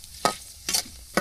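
Semai vermicelli fries in oil in a pan over a village wood fire, heard as three short, sharp stirring scrapes against a faint low sizzle, with no talking.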